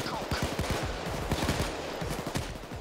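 Rapid gunfire in the heist game Payday 2: dense, loud bursts of automatic shots crackling in quick succession throughout, close and nearly continuous with little pause.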